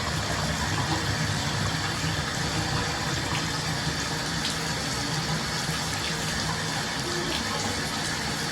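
Hot water gushes steadily into a carpet cleaner tank for several seconds, a constant rushing fill heard up close.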